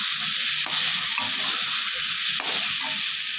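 Pointed gourd (potol) sautéing in a pan, a steady broad sizzle and hiss running continuously at moderate level with a few soft stirring scrapes, no talking.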